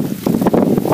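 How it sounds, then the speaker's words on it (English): Wind gusting across a cornfield, a short loud buffeting whoosh hitting the microphone with fluctuating rushing noise, close and with no voices. "As you can see, it's windy out here pretty much all the time."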